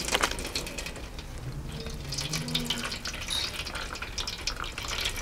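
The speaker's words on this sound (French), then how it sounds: "on va bien l'arroser en faisant couler juste de l'eau, voilà, sur le dessus, comme ceci." Water pours steadily from a tap over a potted Venus slipper orchid, a continuous close splashing and trickling with no one speaking.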